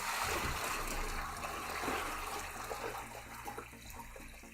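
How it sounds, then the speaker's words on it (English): Water pours steadily and loudly into a tub set up for gold panning on a desk, a continuous splashing gush with no voices. "add a little bit more water here"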